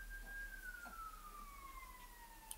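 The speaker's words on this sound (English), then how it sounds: "Sorry, you're going to get a siren" A siren wails steadily at moderate distance, its pitch sliding slowly downward as the vehicle passes, over a low background rumble.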